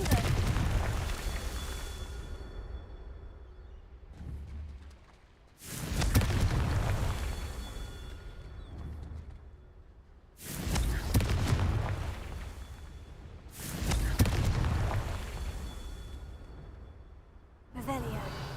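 Repeated Confringo blasting-spell explosions from a video game, four loud booming blasts spaced several seconds apart, each fading into a rumbling tail, with spoken voice between them.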